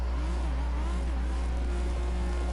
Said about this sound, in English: the audio of the rev limit and things like that